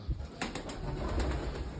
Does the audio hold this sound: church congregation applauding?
no